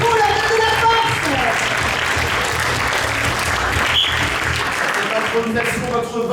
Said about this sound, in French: applaudissements pour les équipes pour cette première info